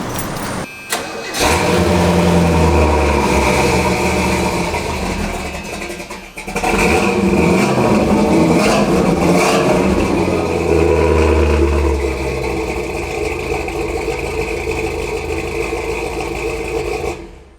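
A 50th Anniversary Pontiac Trans Am V8 cranks and catches after a brief pause, then idles and revs loudly and steadily for the rest of the clip, close up with little talk over it.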